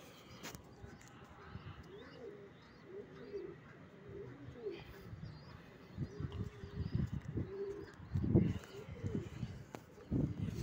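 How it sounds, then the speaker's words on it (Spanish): Racing pigeons in Barcelona coo in repeated low, throaty phrases, fairly close, with light bird chirps and background noise around them; a louder burst comes near the end. "Ahí viene con una paloma."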